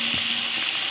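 Onions for chicken dum biryani sautéing in a pan, a steady dense hiss of frying with a brief stir scrape near the start, close and continuous with no talk.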